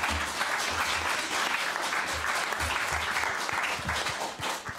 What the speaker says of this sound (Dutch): Geef ze graag een warm applaus